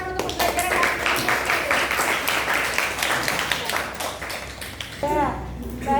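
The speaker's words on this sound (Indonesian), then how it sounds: "Oke, berikan tepuk tangan untuk pembelajaran hari ini" A classroom of children bursts into brisk, dense clapping that carries on for several seconds, with kids' voices chattering over it and a teacher speaking near the end.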